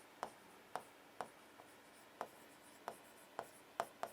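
A black ballpoint pen scratches on paper in quick, regular strokes, about nine crisp, close ticks at an even pace with nothing else audible.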